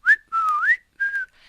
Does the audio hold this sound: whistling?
yes